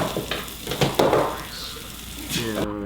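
Shallots frying in a little olive oil in a pan, giving a steady soft sizzle with a few clattery stirring bursts, while a voice talks briefly over it near the end.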